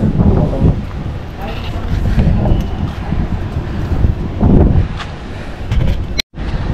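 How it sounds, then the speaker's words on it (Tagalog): Strong wind buffets the microphone in gusty, rumbling waves high up at Punta Fuego, with a voice speaking intermittently beneath the roar. "Kasi mahangin dito sa taas."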